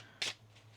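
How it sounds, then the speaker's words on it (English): A single quick riffle of tarot cards, one short crisp burst of flicking card edges, close and soft against a quiet background. "One more shuffle here, please"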